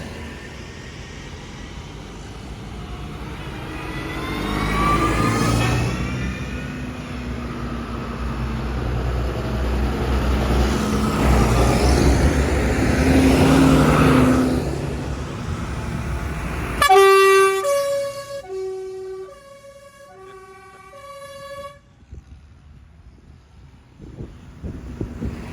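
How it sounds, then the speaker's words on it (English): Tractors on an Easter Saturday tractor run rumble past outdoors with wind buffeting the microphone, a long rising and falling engine roar followed by a series of short horn toots. "Have you been counting the tractors going past?"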